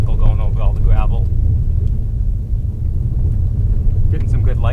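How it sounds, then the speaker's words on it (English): A vehicle rolling over a gravel road during storm chasing in Nebraska, heard from inside as a loud, constant low rumble of tyres and cabin noise while a person talks over it. "is in the vehicle going over all the gravel."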